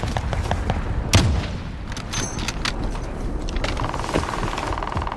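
Sharp gunshots crack out in Call of Duty Warzone, several distinct reports spaced irregularly amid loud ambient battle noise and a sustained mechanical tone near the end.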